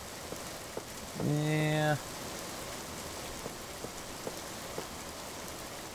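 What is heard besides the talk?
rain falling in the video game Minetest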